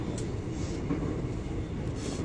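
A Seoul subway train carries riders with a steady low rumble and rolling rail noise, a faint rattle now and then, and no clear talk.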